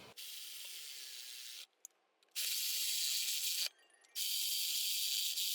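Ratchet driving bolts back in on a 2004-2008 Ford F150 power steering pump (4.6L/5.4L engine), three long continuous buzzing runs of rapid clicking separated by short pauses, close and fairly loud.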